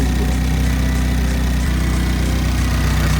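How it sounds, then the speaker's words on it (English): A Hyundai Veloster N sits idling after engine modifications, its steady engine drone running continuously with a fine, rapid ticking from the high-pressure fuel pump layered through it, close and even throughout. "That's that high pressure fuel pump tick."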